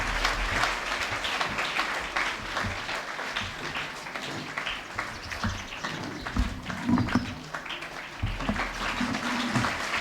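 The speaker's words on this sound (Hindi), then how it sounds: "तालियां थोड़ी बजती रहें" Audience at a foundation day ceremony of an advocates' council, held at a school in Naugaon, keeps up fairly quiet, steady applause through the whole stretch, with some murmuring and handling noise mixed in.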